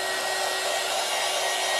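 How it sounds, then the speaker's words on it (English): A heat gun blows hot air during a craft painting session, giving a steady, loud, even whoosh with a faint tonal whine and no talking. "my pink, it's my heat gun"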